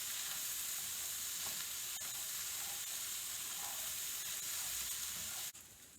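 Breakfast hash frying in a pan, a steady broadband sizzle with hiss holding constant and close for most of the six seconds, then dropping off abruptly near the end.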